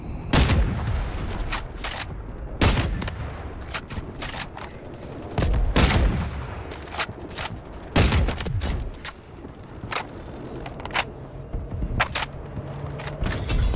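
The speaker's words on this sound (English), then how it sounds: "Incoming artillery." An incoming artillery barrage in the Delta Force video game lands as a steady run of loud, sharp blasts and cracks, some close together, over continuous battle noise.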